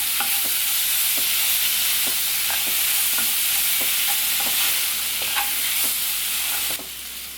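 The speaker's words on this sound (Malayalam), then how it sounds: "തക്കാളി നല്ലപോലെ തന്നെ ഒന്ന് വഴന്നു വരുന്നുണ്ടോ." Thinly sliced ripe tomatoes sauté in hot oil for a cauliflower masala, a loud, constant sizzle punctuated by regular scraping taps of a spoon stirring the pan, with the hiss easing slightly near the end.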